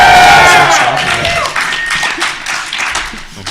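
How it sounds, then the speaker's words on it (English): A studio audience at a live comics talk show at Calgary Expo claps and cheers loudly, a dense burst of applause with whoops at the start that eases slightly but keeps going throughout. "Applause!"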